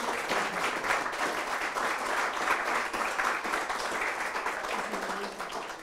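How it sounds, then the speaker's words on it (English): Sustained audience applause fills the hall, a dense, steady wash of many hands clapping that holds evenly for several seconds before easing slightly at the end, with no speech over it. "So you already got your official applause"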